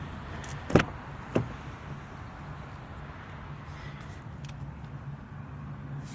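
The trunk of a 2018 Acura TLX A-Spec SH-AWD shuts: one firm, close thud, followed shortly by a softer second knock, then a quiet, faintly humming background.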